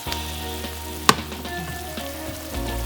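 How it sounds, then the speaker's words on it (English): Onions sauteing over low to medium heat in a pan with a spoonful of cube steak juice, a steady close sizzle and crackle with one sharp clank near the middle. "naturally on a low to medium heat. We're gonna saute that."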